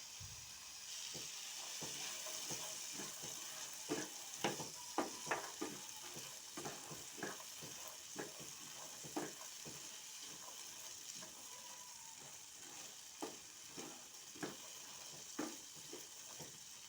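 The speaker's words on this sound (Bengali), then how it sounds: "এখন দিয়ে দেব ছোলা।" Chickpeas are tossed into a pan of spices and stirred, a quiet steady sizzle broken by repeated scraping and tapping strokes of the spoon at an uneven rhythm, close and alone.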